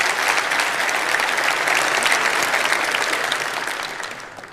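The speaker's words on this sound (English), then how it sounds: "So give him a round of applause." Loud, sustained clapping from a large conference audience, a dense wash of hand claps that carries steadily before tapering off slightly at the end.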